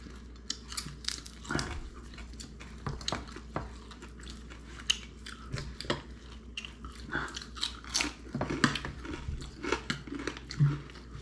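Crunchy fish bones from a freshly caught and cooked large fish being chewed close up, with repeated sharp bites and crackling crunches in an irregular rhythm and no talk.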